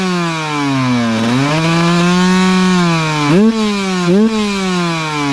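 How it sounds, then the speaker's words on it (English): Rebuilt Kawasaki KX125 two-stroke motorcycle engine, out on forest trails, revving loud and close with a buzzing, sawlike tone that rises and falls, with two sharp blips near the end. "Hear that motor? Something's like crunching."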